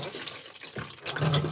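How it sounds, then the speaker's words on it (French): A seawater tap runs aboard a boat as fish are rinsed, a short steady gush of splashing water, close and unbroken. "c'est qu'on a un robinet d'eau de mer"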